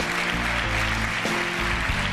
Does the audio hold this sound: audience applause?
yes